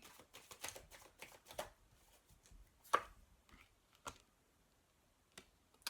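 Tarot cards are shuffled and riffled in a series of quick, soft, irregular bursts and taps, close by and quiet, with no talking.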